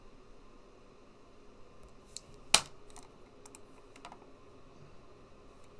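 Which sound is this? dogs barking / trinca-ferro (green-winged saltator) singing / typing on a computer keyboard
typing on a computer keyboard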